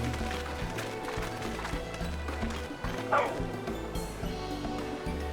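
A puppy in Final Fantasy XIV barks and yips repeatedly in quick bursts, with running footsteps and steady game music beneath.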